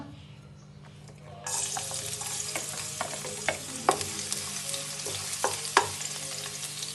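After a quiet hum, garlic hits hot ghee with a sudden loud sizzle that keeps crackling, broken by occasional utensil clicks from stirring.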